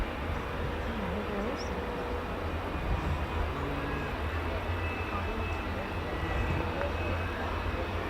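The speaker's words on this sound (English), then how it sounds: "Oh, it is the PC-9." A PC-9 turboprop aircraft flying a display at RAF Fairford during the Royal International Air Tattoo arrivals, a steady distant engine drone over crowd ambience with some talking.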